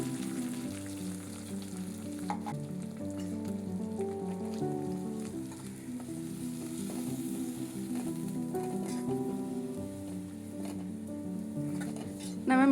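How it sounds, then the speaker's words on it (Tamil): Ground spice paste for rasam sautéing in hot oil, a steady close sizzle and crackle that continues throughout beneath background music. "சேர்த்து 2 நிமிஷத்துக்கு எண்ணெயிலே நல்லா வதக்கிக்கணும்."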